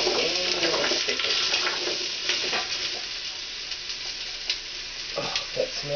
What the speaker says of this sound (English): you're going to want to stir also